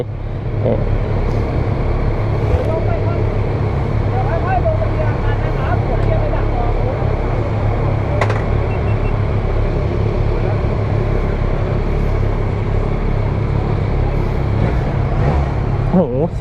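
A Yamaha motorcycle engine, an R7 out on a test ride, drones loudly and steadily throughout, with wind rush and people talking over it.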